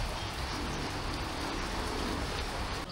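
Steady rain falls as a dense, even hiss, loud and close throughout, with no voices heard.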